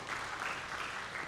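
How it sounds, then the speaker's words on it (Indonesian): Applause from a church worship congregation, a steady dense wash of clapping that holds at moderate level throughout the short stretch, with no talk over it. "Tepuk tangan dulu."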